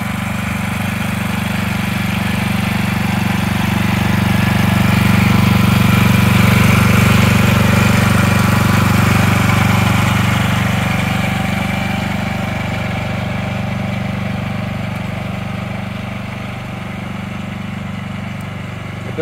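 A small engine on an autonomous lawn tractor runs steadily throughout, a loud low drone that swells slightly in the middle and then eases back, with no talking.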